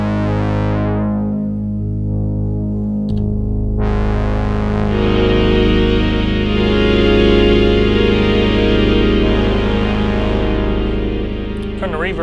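A sustained, thick synthesizer chord with soft swelling onsets and slow fades, layered tones shifting gradually over a steady low drone, with a slight distorted, chorused edge.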